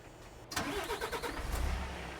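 A truck engine in Euro Truck Simulator 2 cranks and catches after a short pause, then settles into a steady mid-pitched rumble that swells slightly, heard alone.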